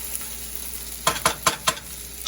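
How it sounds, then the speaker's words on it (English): Italian sausages frying in a pan with onion, a quiet sizzle under about six sharp scraping and clattering strokes of stirring in the second half, close and with no talking. "I'm gonna add the sausages back in."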